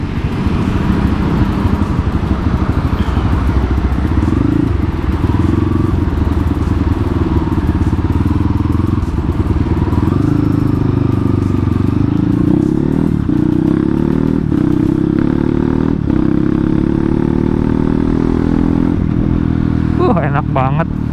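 A Kawasaki KLX supermoto motorcycle, bored up to 200 cc, drones loudly and continuously while riding, pitch rising slowly, with rattles and clatter, and a voice talking over the noise.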